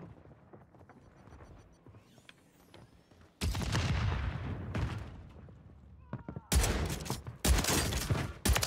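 Gunfire in the Warzone 3 video game on Rebirth Island, likely including shotgun and rifle fire: loud bursts of shots from about 3.5 seconds on, with sharp volleys near the end, following a quieter stretch of distant game ambience.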